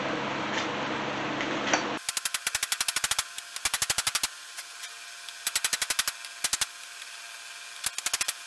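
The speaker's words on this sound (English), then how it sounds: "I'm gonna be gentle and use a small hammer." Quick bursts of light hammer taps seating a front main seal on a 12-valve Cummins engine, several rapid strikes in each cluster with short pauses between, close by, after a few seconds of steady hiss.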